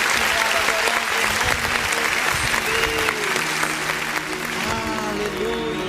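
Church congregation clapping steadily throughout a worship service, a dense continuous applause with faint voices and music underneath.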